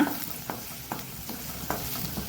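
Chopped onion frying in a pan for masaledar potato bhindi, with a steady close sizzle broken by several scraping stirs of a spoon against the pan, and no talk.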